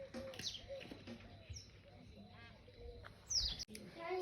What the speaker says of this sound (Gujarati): જો બધે મોરલા, એક મોરલો સામે હતો ને.